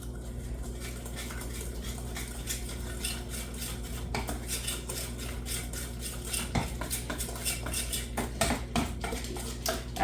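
A utensil stirs a butterscotch-style mixture in a bowl or pan, giving a steady run of light scraping clinks and taps that picks up toward the end, close and alone.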